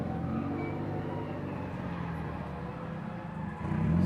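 A Toyota AE86 with a 20-valve 4AG engine drives on a mountain touge course in Japan, its engine a steady droning rumble that swells louder near the end as it approaches.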